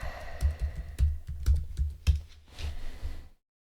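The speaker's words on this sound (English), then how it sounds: "So we're just going to type in ZocDoc." A short burst of typing on a computer keyboard, a quick run of crisp, close keystrokes with a slight pause before a final flurry, then silence.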